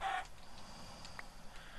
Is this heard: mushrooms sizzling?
no